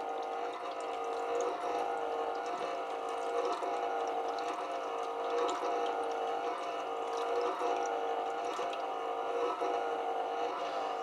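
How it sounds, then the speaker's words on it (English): An airless paint sprayer pump runs steadily while being primed with paint, a constant mechanical drone with a watery, pumping churn that holds even and fairly loud throughout, with no talking. "The pump should sound like it's working a little bit harder"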